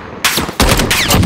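Rapid automatic gunfire in Call of Duty: Warzone, loud and close, with a short burst followed by a longer sustained stream of shots.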